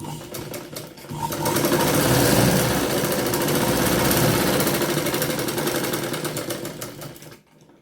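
Sewing machine stitching blouse fabric, a fast steady mechanical whir with rapid needle clatter that runs loudly and continuously for several seconds, close up, then stops abruptly.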